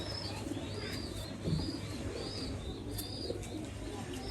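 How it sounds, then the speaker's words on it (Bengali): Racing pigeons coo softly in a loft, low repeated throaty calls with a faint chirp or two over a constant background hum. "এই কবুতরটা আপনার বাবার দিক থেকে রুলেন ফিজার আর মায়ের দিক থেকে ক্যাভেন্ডিস খুব ভালো একটা কবুতর"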